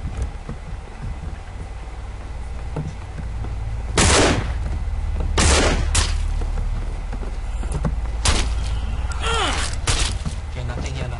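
Scattered gunshots in the zombie survival game No More Room In Hell, several sharp cracks spread over the stretch, some close and loud, heard over steady background game ambience with voices talking.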